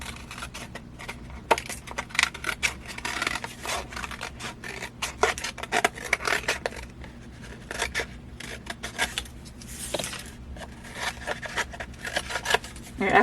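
Scissors cut through a paper plate to shape the nose of a craft mask, giving a run of close, crisp snipping and rustling strokes with faint background noise.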